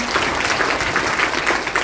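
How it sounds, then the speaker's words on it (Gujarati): A seated audience at a motivational talk breaks into dense, continuous clapping that is fairly loud and close, with no gaps, throughout the short burst. "હવે તાળી પાડો તમારા માટે"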